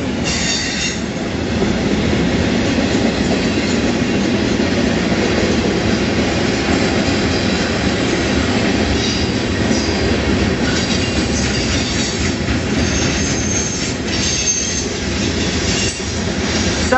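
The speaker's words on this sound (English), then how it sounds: "Long train." A long freight train with graffiti-covered cars rumbles steadily past at close range, wheels clattering and squealing on the rails throughout, loud and continuous with no voices.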